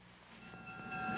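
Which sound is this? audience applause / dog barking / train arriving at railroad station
train arriving at railroad station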